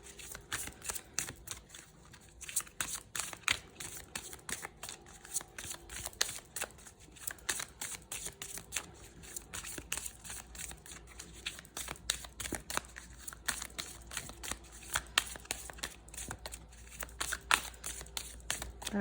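Tarot cards are shuffled steadily and close up, a rapid run of dense papery riffles and flicks lasting throughout with no talk.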